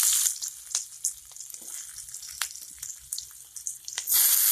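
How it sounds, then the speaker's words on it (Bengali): A ground paste of ginger, cumin, turmeric, chilli and garlic fries in hot oil in a wok for egg curry. It makes a close, fizzing sizzle with scattered crackles and spatters, growing louder at the end. "এগুলো ভেজে নেবো ভালো করে"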